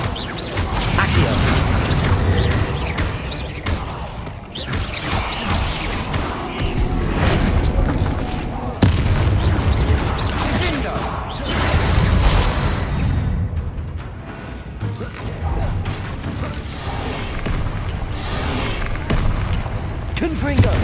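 Bombarda and Confringo spells detonate one after another in Hogwarts Legacy gameplay, a long barrage of heavy booms, crackling blasts and clanking effects, loud and close with brief lulls between volleys.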